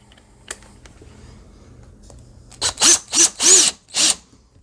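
A power drill drives screws through a part and into metal while securing it for added home security, giving four loud whirring bursts close by in quick succession after a quieter stretch of handling noise.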